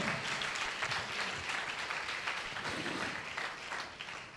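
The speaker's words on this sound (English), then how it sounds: "Yes, you can clap for that." An audience in a church on Good Friday claps steadily, a dense, moderately loud wash of applause that holds throughout and tapers slightly at the end.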